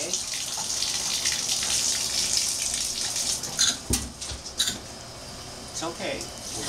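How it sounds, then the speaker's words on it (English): Shower water runs steadily while a dog is washed, with splashes and sharp bumps breaking in near the middle. "We're gonna take our first shower."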